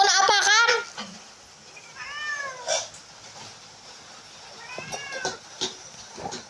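A cat meows several times, a high wavering cry at the start followed by two more drawn-out meows spaced apart, close by in a quiet room with small handling noises between.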